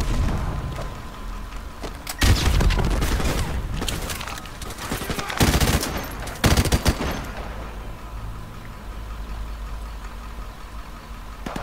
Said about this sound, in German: Irgendwas schießt rechts von dir.